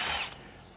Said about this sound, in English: I'm going to go ahead and take off this 18 millimeter nut.